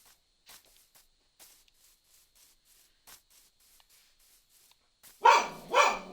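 A pet dog named Penny gives two loud, close barks after several seconds of faint intermittent rubbing and tapping sounds in an otherwise quiet room.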